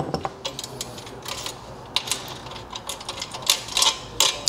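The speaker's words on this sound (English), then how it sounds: "We're going to remove the 2/4-inch stainless steel locking nuts that we have on this plate." Stainless steel locking nuts being loosened off a plate with a 7/16 wrench and socket: quick, faint metallic clicks and ratcheting ticks in irregular bursts, close by with no talking.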